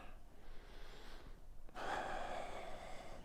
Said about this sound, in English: breathing in, breathing out, breathing in,